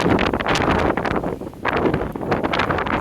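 Strong high wind buffeting the microphone in loud, roaring gusts that rise and fall over a few seconds, with no other sounds standing out.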